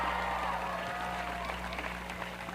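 Audience applause at the 2022 Kapaa High School graduation ceremony, a steady wash of clapping held at moderate distance for a few seconds over a constant low hum from the venue's sound system.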